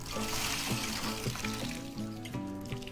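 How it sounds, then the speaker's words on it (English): A sponge squeezed out over a bucket of water for tile thinset, giving a faint, close trickle and dribble of liquid with a few soft splashes, heard without any talking. "you'll just take a sponge and"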